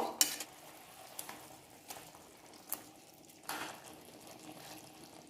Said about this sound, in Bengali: গ্রেভিটা ফুটে গেছে, এর মধ্যে আমি এবার বেগুনগুলো দিয়ে দেব।